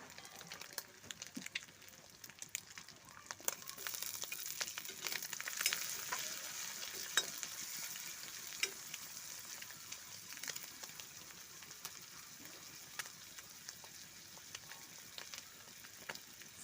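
Onion frying in a pan for Indian-style masala pasta, a steady soft sizzle with scattered crackles and the occasional scrape of stirring, fairly quiet and with no talking.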